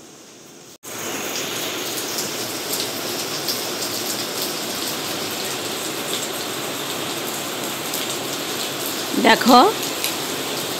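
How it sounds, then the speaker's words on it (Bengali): Heavy rain falling outside before an early train trip from Digboi to Guwahati, a steady loud hiss of downpour throughout, with a brief spoken word near the end. "আর বাইরে দেখাচ্ছি কেমন প্রচণ্ড বৃষ্টি হচ্ছে।"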